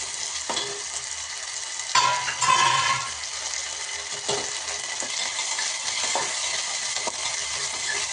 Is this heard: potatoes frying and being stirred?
yes